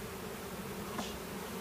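Honeybees buzzing around while bee packages are installed into a hive, a steady close hum with one bee swelling briefly louder as it passes near.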